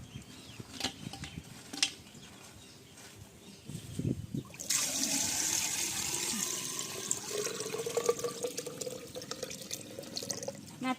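Water starts pouring halfway through, a close splashing and trickling stream poured onto snails after a few quieter clinks and handling noises.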